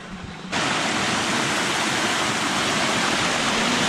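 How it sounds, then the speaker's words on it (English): Clear water gushes steadily out of a blocked-up old mineshaft entrance, a loud, constant rushing roar that swells in abruptly after a quiet half second and stays close and unbroken. "The water is still coming out of it"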